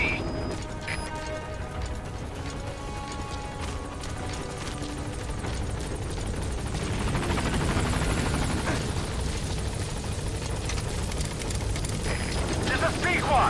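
In Metal Gear Solid V: The Phantom Pain, a helicopter comes in to the landing zone, its rotor chop and engine whine swelling louder as it nears, with mechanical clicks and a radio voice speaking over it.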